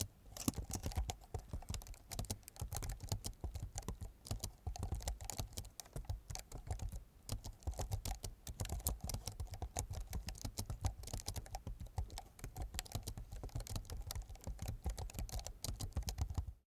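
Continuous fast typing on a computer keyboard while writing Solidity smart-contract code in the Remix IDE, dense steady key clatter throughout at a quiet close level, no talking.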